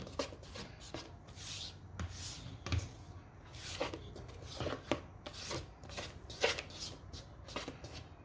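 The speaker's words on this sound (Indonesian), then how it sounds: "masukkan pasta coklat, lalu kita aduk lagi" A spoon stirs chocolate paste into marble cake batter, making soft scraping and rubbing strokes in an uneven rhythm, close and fairly quiet.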